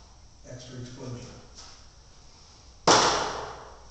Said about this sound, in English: You want to make sure you hold off to the side and hold the lighter striker down to the side.